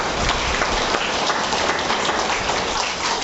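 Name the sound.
audience applauding for Baba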